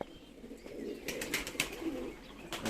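Young feather-footed (perdeli) pigeons coo softly nearby in a short run of throaty calls, with a few light chirps and faint rustling, and no voices.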